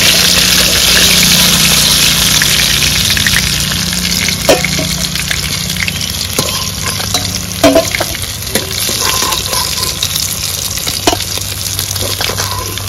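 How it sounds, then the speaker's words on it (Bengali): Pieces of desi rohu fish fry in hot oil with a loud, continuous sizzle close up, broken by occasional light clinks and stirring taps. "মাছটা লাল লাল করে ভেজে নিয়েছি"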